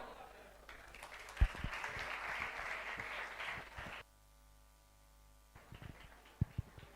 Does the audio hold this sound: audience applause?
yes